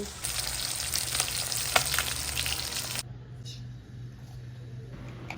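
Pabda fish frying in oil in a hot wok, a dense loud sizzle with a few crackles and stirring sounds that cuts off abruptly partway, leaving a quiet room tone.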